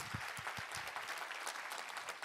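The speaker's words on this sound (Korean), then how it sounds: "하나님께 감사와 영광의 박수 올려드리겠습니다." A church congregation claps together in a steady burst of applause during a early-morning prayer service, dense and continuous throughout with no voices on top.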